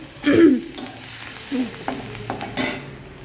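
Minced garlic dropped into hot melted butter in a pan for a winter soup, giving a soft sizzle with occasional stirring scrapes and light utensil clinks, close and fairly quiet, with no talking.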